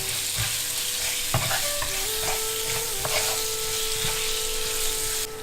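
Ginger and garlic dropped into hot oil with seeds in a pan for vegan samosa filling, a steady close sizzle with stirring scrapes throughout.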